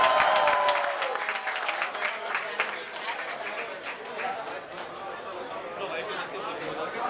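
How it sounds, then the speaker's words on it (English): Applause at a college event where actress Sara Ali Khan promotes a song for the film Atrangi Re at Mithibai, a dense, steady burst of crowd clapping that is loudest at first and eases slightly, with cheering and chatter mixed in. "Please give them a huge round of applause."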